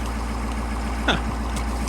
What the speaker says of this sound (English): Revved up on her own there.